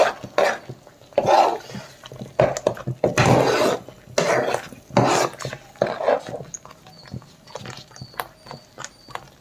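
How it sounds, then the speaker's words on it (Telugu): A spoon stirs and scrapes thick sweet potato halwa in a pan as it cooks down into a lump, with repeated uneven bursts of scraping and knocking up close and no talking. "ఈ ముద్ద అయ్యేదాకా కలుపుకోవాలి."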